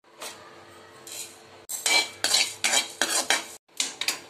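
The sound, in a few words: dry roasting coriander seeds and cumin in a pan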